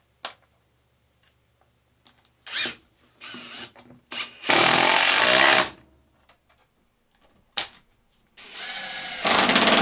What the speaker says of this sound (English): here I'm going to use an impact driver to set these screws